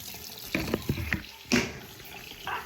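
Running tap water splashes into a silicone menstrual cup being filled, in short irregular gushes and spatters, close and moderately loud, with no speech.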